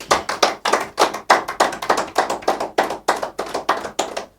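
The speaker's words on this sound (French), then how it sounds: "Nous continuons les applaudissements." Crowd at a French-language official gathering for a regional president claps in rhythmic unison, sharp synchronized bursts repeating about three times per second, loud and near.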